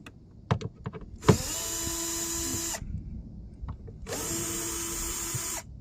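Cordless power drill spinning out bolts on the air filter housing of a Mercedes/Dodge Sprinter van with a V6 turbo diesel, two sustained close whirring runs separated by a pause, with light clicks and handling noises before the first run.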